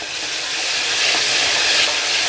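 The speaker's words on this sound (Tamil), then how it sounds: "இஞ்சி பூண்டு பச்சை ஸ்மெல் போகிற வரைக்கும் நல்லா வதக்கிக்கோங்க." Ginger garlic paste and onions sautéing in a pan for millet tomato rice, a loud steady sizzle and hiss running throughout with no talk.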